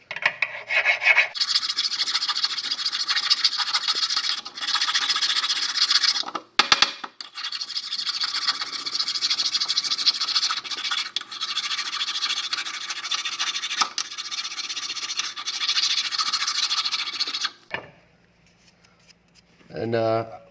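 Rust buildup being scraped off a rear brake caliper bracket on a 2016-2020 Honda Civic: loud, close, rasping strokes in long continuous runs, broken by a brief pause and falling quiet near the end.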